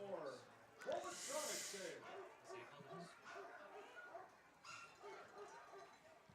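A police canine dog barks and whimpers amid the noise of a baseball game, with several sharp yips early on and crowd chatter and talk running underneath.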